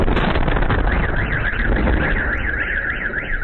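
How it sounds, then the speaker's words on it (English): Car alarm wailing in a repeating up-and-down siren pattern, loud and continuous, with other alarms blending into a street-wide din. "right now, as these car alarms are going off"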